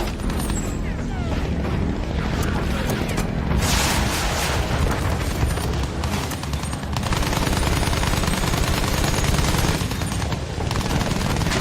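Dense gunfire from the Battlefield 1 video game, with sustained bursts of rapid shots and booming impacts over a constant loud battle roar, plus a brief stretch of heavy firing, and voices shout in the background.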